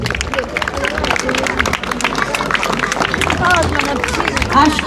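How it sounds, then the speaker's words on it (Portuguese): Applause from a large crowd at a São Jorge parade of allegorical floats, dense steady clapping throughout with a busy murmur of voices and cheers mixed in. "Uma salva de palmas, se faz favor."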